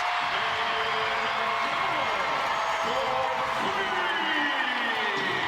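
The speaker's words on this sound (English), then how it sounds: "Crowd into it" Basketball arena crowd at a WNBA game, a loud sustained roar of cheering and whooping that fills the space and stays steady for several seconds, with a commentator talking over it.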